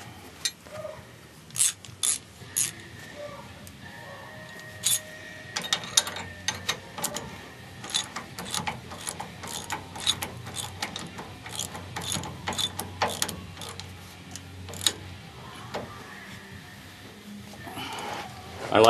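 A hand ratchet tightens lock nuts onto bolts, giving rapid bursts of close mechanical clicking that start, stop and restart, with light rubbing and handling noise between the bursts.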